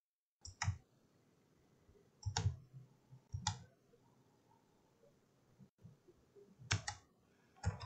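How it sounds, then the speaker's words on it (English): Mouse clicks while drawing a handle in Rhino 7 3D modeling software, heard as about half a dozen sharp, separate clicks spaced irregularly over several seconds, close and fairly quiet with faint room noise between them. "just start clicking to create this handle."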